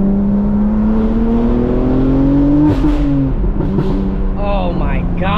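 BMW M4 with a straight-piped exhaust from downpipe to axle-back and a small performance muffler, revving loudly and steadily with a rising tone that drops off, then a second climb, close by with voices partly over it.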